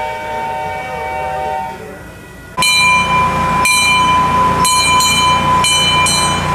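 A tourist train at the Dole Plantation on Oahu, Hawaii rolls along with steady rumble and a loud horn blast partway through, followed by repeated horn or whistle toots over the clatter.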